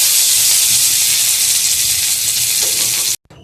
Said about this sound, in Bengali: আর দিয়ে দিব পেঁয়াজ কুচি।